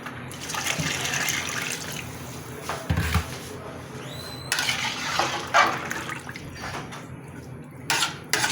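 Water is poured into a cooking pot for vegetable rice pulao with chicken powder added, making splashing and trickling sounds and a few clinks of the pot.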